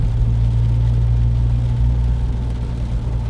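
A 2019 Mini Clubman John Cooper Works on the move, heard from inside as a steady low engine drone and road rumble with a smooth whir, continuous and fairly loud, with no talking.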